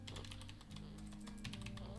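Rapid clicking of keys on a computer keyboard, close and continuous, with a steady low hum running beneath the typing.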